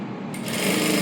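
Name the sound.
sewing machine stitching a blouse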